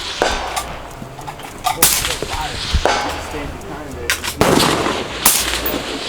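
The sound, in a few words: rifle gunshots at a shooting range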